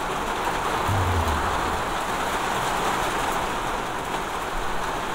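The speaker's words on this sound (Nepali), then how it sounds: "पानी पर्नु थालिसक्यो यार केटा हो" Steady rain pours down continuously, a dense even hiss with a brief low rumble near the start, no voices over it.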